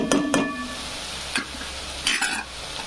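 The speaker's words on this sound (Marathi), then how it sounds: "छान आता थोडं तळत आलेलं आहे।" Mutton for Kolhapuri mutton curry frying and sizzling in a pan, with a few stirring scrapes and clinks over a steady, close hiss of hot oil.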